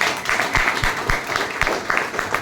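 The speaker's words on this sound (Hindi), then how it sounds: "एक बार जोरदार तालियां" Audience clapping at a business seminar, a loose crowd applause with sharp individual claps standing out in an uneven rhythm, fairly close and continuous throughout.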